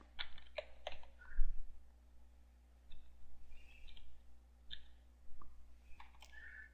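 A password goes in on a computer keyboard as sparse, close key clicks in short clusters, with a low steady hum underneath and no talking.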